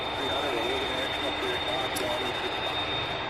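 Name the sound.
American flight airplane taxiing at SDF airport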